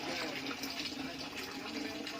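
Water runs steadily from a deep-well supply on a farm in Tiaong, Quezon, a continuous broadband rush that stays loud and even throughout, with no clear speech over it.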